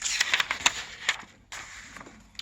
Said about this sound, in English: See if I can get this page turned.